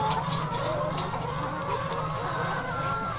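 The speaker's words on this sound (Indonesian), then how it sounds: "Ini ayam sedang menunggu makan yang kedua." Many egg-laying hens cluck and murmur together close by in a coop, a steady busy chorus with a faint voice in the background.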